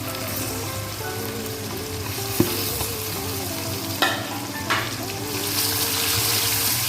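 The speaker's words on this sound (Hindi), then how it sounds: "लौकी को भी हमने 1 मिनट तक इसमें फ्राई करना है।" Bottle gourd (lauki) fries in a pan for lauki bhujia under a steady, close sizzle, with occasional spoon knocks and scrapes as it is stirred, plus a faint background hum.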